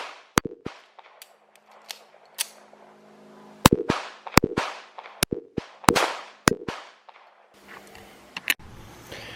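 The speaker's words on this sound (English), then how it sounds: "After this little bit of shooting here" Shots from a Hi-Power pistol ring out as sharp, loud cracks, about a dozen in irregular single and paired bursts, each with a short echoing tail, ending in some faint rustle.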